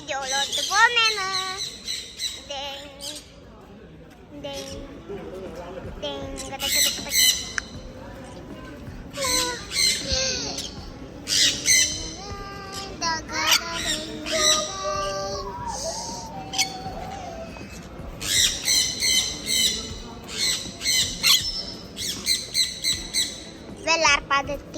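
A bird calling outdoors in the evening, repeated bright chirping phrases in bursts at close to middle distance, with voices talking at intervals between the calls.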